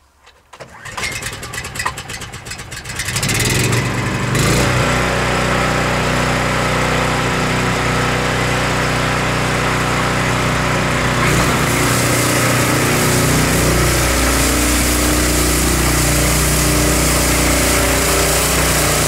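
An Ariens Power Brush 36 gas engine sputtering to life and then running at a loud, steady, droning idle outdoors during a snow demonstration, holding constant for the rest of the clip.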